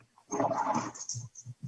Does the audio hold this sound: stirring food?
no